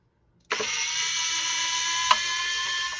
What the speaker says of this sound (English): use my screwdriver here because that's the exact one I was looking for